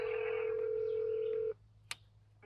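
A telephone dialing a business number: a sustained tone holds for about a second and a half, then cuts off, followed by a brief sharp click in quiet line hiss.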